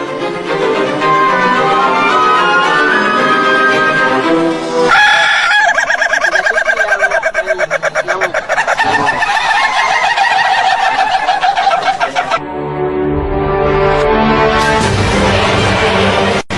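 Rooster crowing loudly and repeatedly in several long, strained calls, with no voices present.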